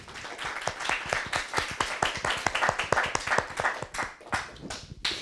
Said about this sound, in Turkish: bu başarılar için bir alkış alabilir miyim çocuklarımıza?